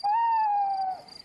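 An owl hoots once in a Peppa Pig cartoon, a single clear sustained tonal hoot that holds steady and then fades, heard alone and fairly quiet.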